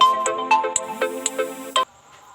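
A phone ringtone plays a bright, repeating electronic melody of quick tones, loud and close, before cutting off abruptly near the end.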